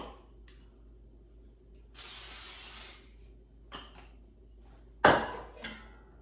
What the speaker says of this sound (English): let's start by spraying the inside of the air fryer basket with the non-stick cooking spray